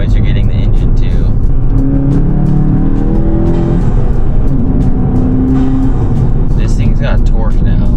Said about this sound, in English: You don't just get turbo noise, you're getting the engine too.